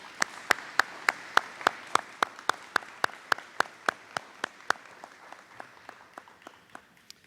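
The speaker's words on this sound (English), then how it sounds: "If we can, let's give her one more round of applause" A single pair of hands claps in a slow, steady rhythm of about two dozen sharp, evenly spaced claps, gradually fading toward the end in an otherwise quiet room.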